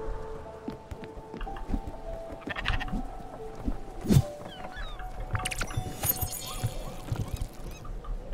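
A sheep bleats in the video game Spiritfarer, a few short wavering calls amid scattered game sound effects and a low steady background, no talk.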